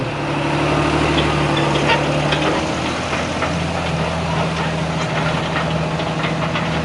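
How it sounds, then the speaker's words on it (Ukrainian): A tractor pulling a stubble disc cultivator runs with a steady low, knocking rumble, holding a constant idle-like pace, with no voices. "прошу водій заводити трактор, проїхати вперед метрів 5"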